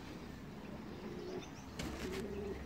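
A roller or racing pigeon coos close by in soft, low repeated calls over a quiet background hum, with a brief brighter rustle partway through.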